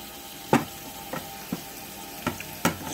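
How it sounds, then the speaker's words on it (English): Beans sizzle steadily in a hot pan while a utensil stirs them, scraping in a few distinct close strokes over the constant frying hiss. "just stir them up."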